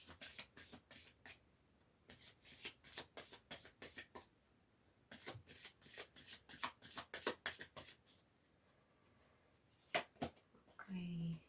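Wisdom of the Hidden Realms oracle card deck handled and shuffled, soft rapid riffling and flicking of cards in close, quiet bursts separated by short pauses, with a brief voice near the end.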